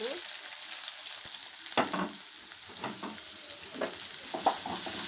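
Onions and cumin seeds frying in oil in a pan for an ivy gourd masala curry: a continuous close sizzle broken by scattered spatula scrapes and clicks.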